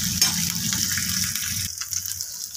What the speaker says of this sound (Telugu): సో ఇదండి వేగుతున్నాయి కదా